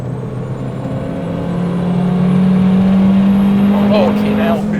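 A turbocharged Honda Civic with a K20 engine and a bonnet-exit wastegate accelerates hard, its engine note droning steadily louder and rising in pitch over several seconds, with brief high whistling chirps near the end.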